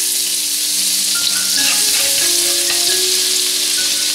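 Chopped scallions sizzling in hot oil in a pan while making hot and sour soup, a loud, steady frying hiss with faint clinks of stirring throughout.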